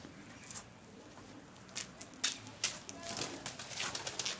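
Soft pigeon cooing at a distance with scattered light taps and flutters over a quiet outdoor background; no one speaks.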